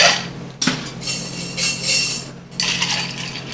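Ice clinking into a glass while making a Boss Godfather cocktail, a few bright clinks and rattles in two or three clusters, close and fairly loud with no talking.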